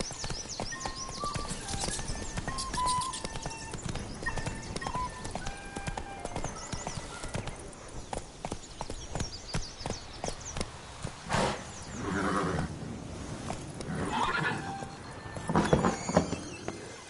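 Roach, the horse in The Witcher 3: Blood and Wine, gallops with quick, rhythmic hoof clops close by. A whinny breaks in briefly, then the hoofbeats slow into a looser, uneven clatter.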